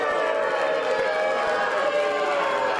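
A wrestling arena crowd roars steadily for Sefa Fatu, a dense, continuous wash of cheering with no pauses, filling the space without a clear voice standing out.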